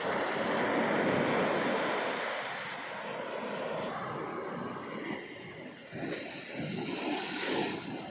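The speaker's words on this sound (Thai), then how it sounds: "คลื่นใหญ่มากครับ อย่างนี้แหละครับคลื่น" Large ocean waves crash and wash ashore on a beach behind Phuket airport, a loud sustained roaring surf with wind buffeting the microphone and swelling breakers over several seconds.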